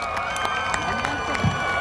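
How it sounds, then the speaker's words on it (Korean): Audience clapping and cheering at the Gimhae Hanwoo beef festival during an outdoor concert, a brief dense burst of applause from a crowd with voices mixed in. "박수 한 번만 부탁드려요."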